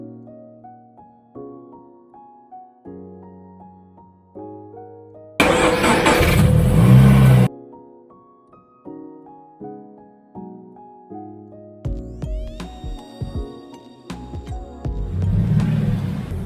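A Toyota GT86 with a compressor starts with a loud burst of cranking and catching, then runs and revs, with melodic music playing underneath.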